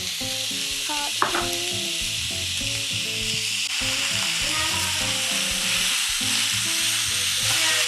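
Bacon fries and sizzles in a hot pan while being stirred, rendering its fat; a bright, continuous hiss runs close-up, broken by occasional scrapes and clinks of the utensil against the pan.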